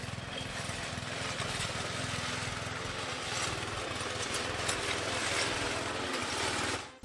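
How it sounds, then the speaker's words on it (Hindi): Lawn mower strapped to a pole and held up to trim a hedge, giving a steady, close motor drone with a rapid mechanical chatter that continues throughout before cutting off at the end. "जब आप पूरा का पूरा लॉन मोवर किसी डंडे में बांधकर हेज की छटाई कर सकते हैं।"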